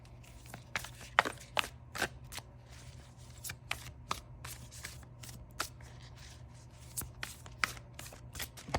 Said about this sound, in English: This deck is pretty sticky, so let's shuffle it.